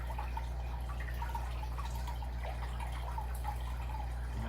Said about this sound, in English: In and out of the water, swooshing.